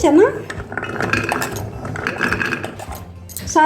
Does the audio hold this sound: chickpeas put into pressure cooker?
yes